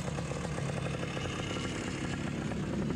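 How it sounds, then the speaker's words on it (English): A two-stroke engine, most likely a dirt bike, runs steadily on a steep, greasy bush track in Wombat State Forest, a continuous buzzing drone at even loudness throughout. "Got another dose of two-stroke for the day."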